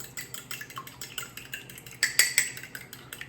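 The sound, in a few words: fork beating egg and milk for egg wash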